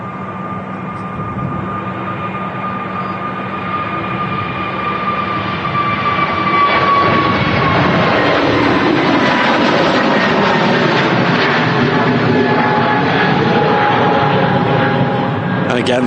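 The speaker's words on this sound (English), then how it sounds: "EasyJet A320 Neo heading off to Hurghada." An EasyJet Airbus A320neo takes off from Manchester Airport, its engine roar building from a whine into a loud, sustained rumble with a falling tonal pitch as it climbs away.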